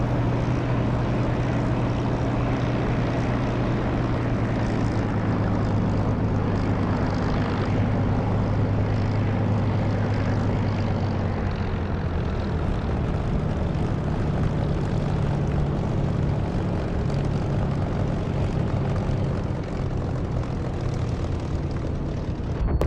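Aircraft engine in the DCS flight simulator game, droning steadily while the plane taxis, with a low tonal hum that shifts partway through and continuous broadband roar throughout, no talking.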